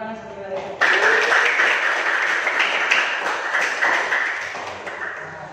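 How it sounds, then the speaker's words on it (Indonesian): Students in a seventh-grade Islamic studies class clap after group presentations, a steady close burst of applause under a voice speaking over it. "Oke, tepuk tangan semuanya."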